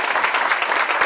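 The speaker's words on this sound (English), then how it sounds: "So I'd like to give them a round of applause." Conference audience clapping steadily throughout, a dense, sustained round of applause from a seated crowd with no voices over it.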